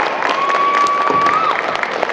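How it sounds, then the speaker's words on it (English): An audience at a convention panel claps and cheers in a short burst of steady, dense applause, with a faint whistle-like tone running through it. "round of applause one more time"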